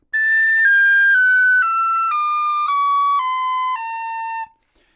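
An Irish tin whistle plays an A modal (mixolydian) scale going downward, about eight clean, breathy notes falling step by step in a steady rhythm, close and loud with no voices.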